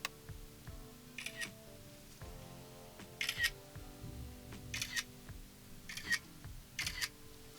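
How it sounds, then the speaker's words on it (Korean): An iPhone camera shutter snaps five times at a steady interval of about 1.5 seconds while photos are taken, each click crisp and close over soft background music. "아이폰 사용하시는 분들은 꼭 살짝 당겨서 찍어주시면 좀 감성적인 사진을 얻으실 수 있습니다. 찍어보도록 할게요."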